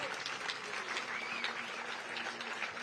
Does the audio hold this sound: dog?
no